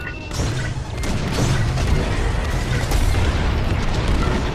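Heavy explosions boom through a space battle in the Star Wars: Squadrons video game, with loud continuous rumbling, crackling blasts and sharp bursts layered together over several seconds, no voices.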